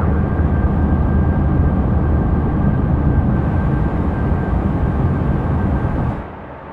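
A Challenger 650 business jet takes off in the X-Plane 12 flight simulator with a loud, steady, broadband engine roar that holds constant and drops off sharply near the end.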